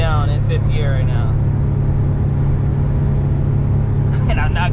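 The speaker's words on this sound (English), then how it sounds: "I'm just going uphill. Like, all the way down in fifth gear right now." A Mitsubishi Bravo kei van engine drones steadily in fifth gear while straining uphill on a New York City street, a constant loud low hum heard from inside the cab, with someone talking at the start and end.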